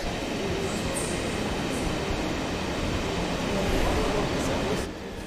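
A long Deutsche Bahn Intercity Express train rumbles steadily through a Berlin station, a dense, loud, continuous roar with faint squeals above it that eases slightly near the end.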